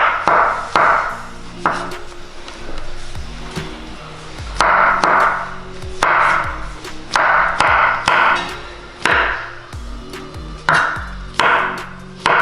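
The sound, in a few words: knife slicing mushrooms thinly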